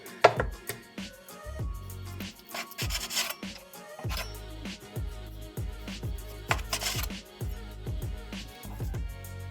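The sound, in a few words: knife slicing pork into thin slices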